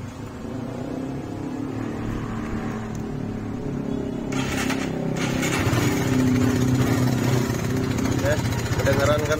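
A 2014 Suzuki Satria FU 150 motorcycle engine idles close by with a rapid rattling, ticking fault in its running, steady throughout, while someone talks over it.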